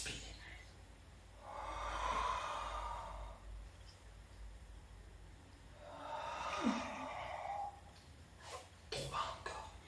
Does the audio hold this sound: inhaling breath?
yes